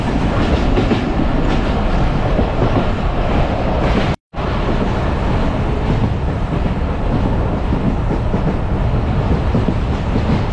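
Modhumoti Express with an old vacuum-brake rake runs steadily, a loud continuous rumble of wheels and clattering rail joints close by, broken once by a brief dropout before the roar resumes.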